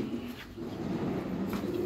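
A golden high-flyer pigeon cooing softly, close by, over a steady low background rumble, with no talking.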